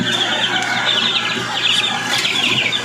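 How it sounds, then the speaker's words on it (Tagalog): Day-old gamecock stag chicks being fed in a backyard, a dense, loud chorus of overlapping high peeping and chirping from many chicks close by, continuous with small bursts of louder calls. "So magpapatuka tayo ng mga ating day old na mga stag."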